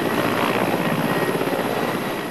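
A military helicopter flies nearby, its rotor and engine making a loud, steady thrumming roar that continues throughout without voices.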